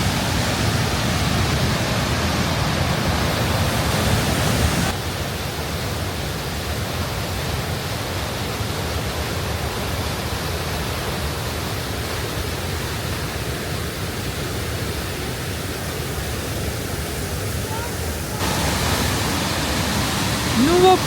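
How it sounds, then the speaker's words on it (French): The powerful glacier-fed Athabasca Falls rush with a dense, constant roar that fills the whole clip and shifts only slightly in level as the listening position changes. "On a fait un petit arrêt aux chutes d'Athabasca."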